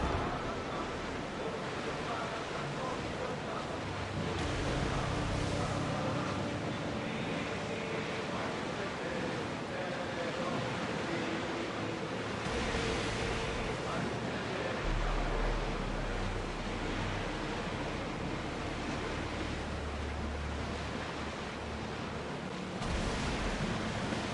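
Ship in Assassin's Creed Odyssey cutting through the sea at sailing speed, with a continuous rush of waves and wind, steady and fairly loud, and a voice talking briefly over it.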